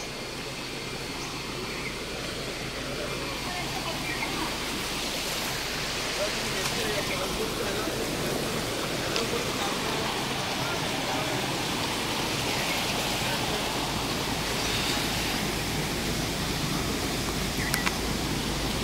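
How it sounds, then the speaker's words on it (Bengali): Fast water pours down a waterfall in the Ajodhya Hills of Purulia as a continuous broadband rush, even and moderately loud throughout. "জলের স্পিডটা দেখো।"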